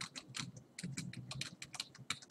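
Close, rapid, irregular keystrokes on a computer keyboard while someone types text on a WordPress site, with quick clusters of clicks and brief pauses and no talking.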